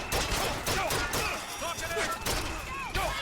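Volley gun fire in the video game Bioshock Infinite, repeated loud explosive bursts at uneven intervals amid other game effects, with someone talking over the gunfire.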